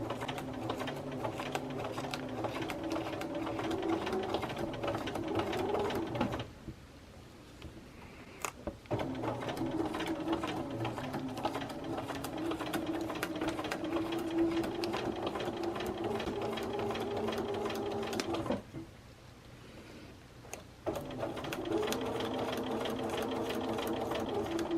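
A Bernina sewing machine stitches across quilt seams in long, steady, close runs of rapid needle clatter, stopping twice for brief quiet pauses before resuming.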